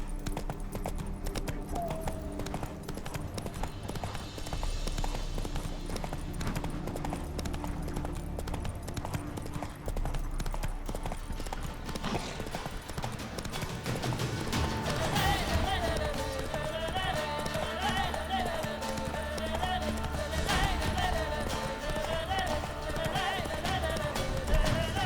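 In The Witcher 3, the horse Roach gallops with a continuous, rapid clatter of hooves that runs throughout, close and steady, under game music and ambient effects.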